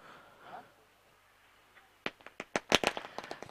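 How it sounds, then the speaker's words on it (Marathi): Firecrackers go off in a quick, irregular string of sharp bangs near a cricket tournament ground to welcome guests, after a quiet stretch with faint murmuring. "फटाक्यांच्या आतिषबाजीनं पाहुण्यांचा हा शुभ सन्मान आपल्याला या ठिकाणी पाहायला मिळतो"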